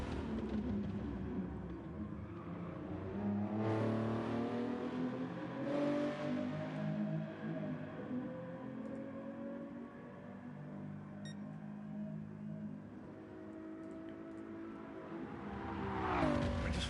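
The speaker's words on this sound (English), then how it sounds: "you get to hear the lovely tones of the Ferrari's engine" A Ferrari racing engine in Gran Turismo Sport, during a Grand Touring Series league race, drones and rises through the gears with a smooth, sustained tone and a brief rev at the end, with no voices over it.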